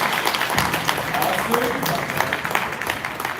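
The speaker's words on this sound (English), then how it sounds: "Round of applause for our panel" Audience applause for a writers workshop panel at WonderCon 2024, a dense wash of clapping with crowd noise spread across the clip while a voice speaks over it.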